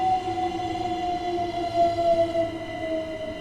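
A train running in Train Sim World 2 on a London commuter route, a steady tonal hum and whine from the moving train, moderately loud and continuous with no talk.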